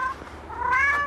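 A kitten meows from beneath a parked car in cold weather, a couple of clear, rising calls close by with a soft rustle in between.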